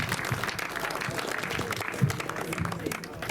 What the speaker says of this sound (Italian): Un applauso a Ignazio